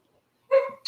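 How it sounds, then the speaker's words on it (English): A dog gives a single short bark at the door, followed by a brief higher yip, loud and close against an otherwise silent background. "Dogs are at the door."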